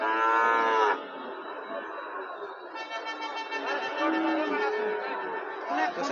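Cattle at a livestock market low repeatedly in long drawn moos, one close and loud at the start and others following, with faint crowd noise beneath.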